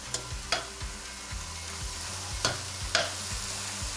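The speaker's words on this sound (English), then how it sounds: "Give that a little shaky shake and let that cook for a few minutes." Plant-based chorizo sizzles in a pan over medium-high heat as it gets shaken, with a steady crackling fry broken by several rhythmic sliding shuffles and light knocks of the pan, close and without talk.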